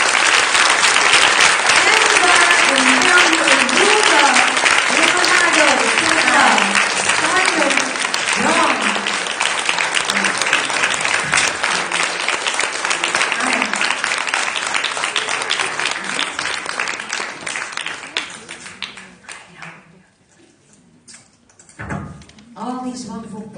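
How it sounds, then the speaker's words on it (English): A large conference audience applauds speakers gathered on stage in loud, sustained clapping with some cheering. It tapers off after about twenty seconds, leaving scattered claps and a voice. "And for you, please, a warm applause for all of them."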